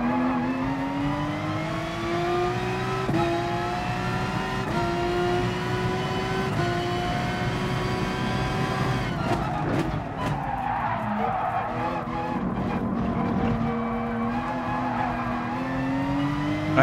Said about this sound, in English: There's like a little growl underneath whole engine sound.